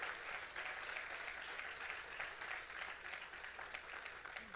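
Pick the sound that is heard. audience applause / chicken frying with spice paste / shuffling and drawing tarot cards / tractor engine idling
audience applause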